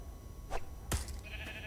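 Two short sheep bleats from a Minecraft: Story Mode sheep hatched from a thrown spawn egg, the first faint and the second sharper, followed by a steady high game tone.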